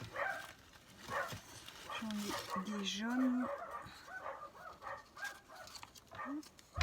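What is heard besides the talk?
dogs barking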